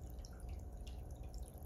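Seashells, including cone, mitra and murex shells, fizzing and bubbling in a dish of vinegar, a soft steady crackle of small popping bubbles heard up close and faint, with no talking.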